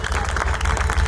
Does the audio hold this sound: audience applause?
yes